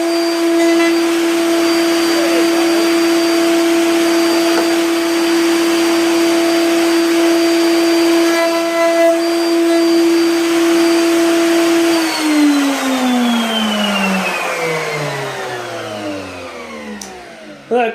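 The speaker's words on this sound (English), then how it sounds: "We can start the router up" A wood router screams with a loud, steady high whine while shaping wood, holding constant for about twelve seconds before spinning down with a falling pitch.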